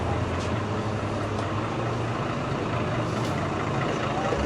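Buses idle in busy Paris street traffic on a cold day, a constant low engine rumble with passing vehicles and faint brake hisses in a loud, continuous city din.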